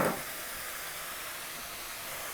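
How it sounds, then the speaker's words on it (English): Mushrooms sear in olive oil in a pan with a constant, even sizzle and hiss, slightly louder at the very start, heard close and alone. "I really want them to get nice and seared."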